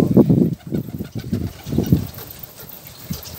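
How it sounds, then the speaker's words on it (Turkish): A large flock of more than two hundred birds kept by a breeder coos and flutters close by in a low, dense, rhythmic murmur of overlapping calls. "200 tane üzerine kuş var abi. Çok kalabalık kuşların."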